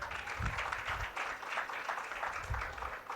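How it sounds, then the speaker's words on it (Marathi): An audience at a formal speech event claps, producing a sustained, moderately loud patter of many hands that continues across the whole stretch without any talking. "टाळ्या वाजवा"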